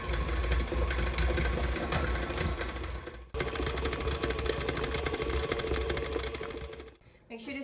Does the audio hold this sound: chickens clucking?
no